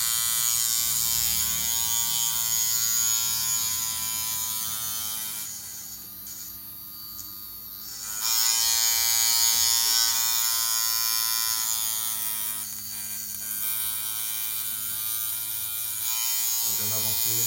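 A tattoo machine gives a steady, close electric buzz that dips and muffles twice before returning to full strength, with faint voices in the background.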